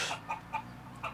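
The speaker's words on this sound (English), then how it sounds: "when the chickens cluck like that" Chickens clucking outdoors in Hawaii, a few soft, short clucks repeating at an uneven pace, fairly quiet against a steady low background hum.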